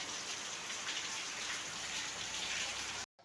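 Steady rain pours down outdoors in a continuous dense hiss with no talk, the sound cutting off abruptly near the end.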